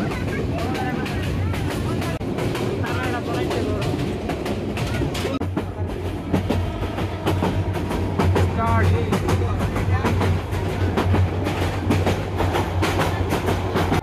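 A passenger train on a new route from Sylhet rumbles steadily along the rails, with rhythmic clicking of wheels over joints and a deep low hum that strengthens partway through, while people talk faintly in the carriage.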